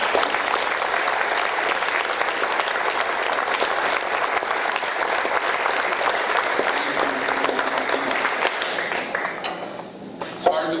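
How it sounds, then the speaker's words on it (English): Sustained, dense applause from an audience at a high school scholarship awards ceremony, steady and fairly loud for about ten seconds before tapering off at the end. "if we could all give them a round of applause."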